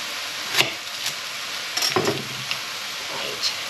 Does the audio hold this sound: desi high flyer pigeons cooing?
no